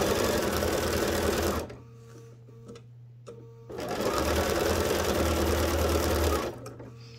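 A sewing machine stitches lace in two loud, steady runs close by, with a short quieter pause between them and a faint hum and some small handling sounds during the gap.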